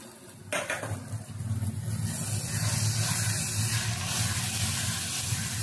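Chivai greens being stirred in a pan for a home-style bhaji, a utensil scraping and clinking against the metal with steady sizzling underneath, close and continuous.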